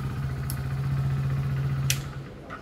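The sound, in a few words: Hero Splendor Plus Xtec 2.0 motorcycle engine running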